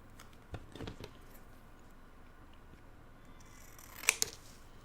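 Scissors cut through cardboard traced around a book: a few soft handling sounds early on, then a quick pair of crisp snips near the end against quiet room tone.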